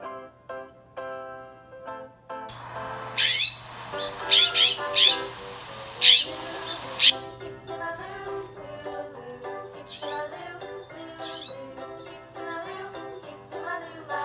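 Birds squawk and call in a garden in Vancouver before the cold winter, bursts of bright chirps and squawks over a soft, steady musical background, with no talk.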